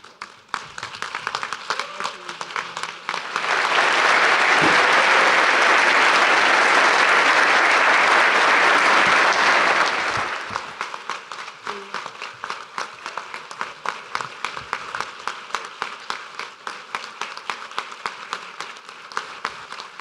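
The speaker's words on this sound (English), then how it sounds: "please stand and applaud Dr. Tinsley as he comes forward." Audience at a Hall of Fame induction ceremony rises into a loud, dense burst of applause that swells for several seconds, then thins into scattered, uneven claps that keep tapping on in the hall.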